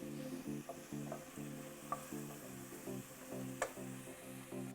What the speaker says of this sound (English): I'm gonna let this saute for a couple more minutes.